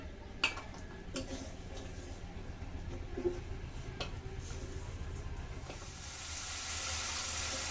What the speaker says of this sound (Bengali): টমেটোগুলো ভালো করে ভেজে নিয়েছি।